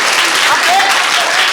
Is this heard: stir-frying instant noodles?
no